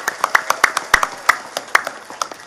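Village residents clapping at a religious gathering, sparse and uneven hand claps with distinct sharp individual strikes rather than a dense roar, fairly close.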